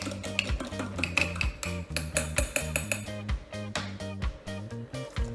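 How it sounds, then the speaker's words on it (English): A fork stirs a mixture of tamarind pulp and seeds vigorously in a container, making rapid repeated clinking and scraping against the sides in a steady, busy rhythm, fairly close and clear. "use a fork to stir the mixture vigorously"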